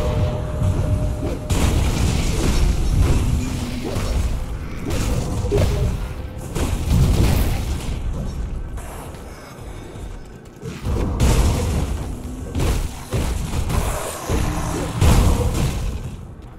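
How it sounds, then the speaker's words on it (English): Zombies burst apart under Lightning Shaman attacks in Grim Dawn, a chaotic run of heavy booms, crashes and whooshes in dense clusters, loud and close with brief lulls between volleys. "There's zombies to explode."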